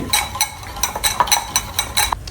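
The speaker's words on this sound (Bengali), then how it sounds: "তারপর আমি এটা হুইস করে নিচ্ছি" A utensil whisks a marinade of paprika powder and olive oil in a bowl, giving a rapid, close run of bright scraping clinks against the sides with no talking.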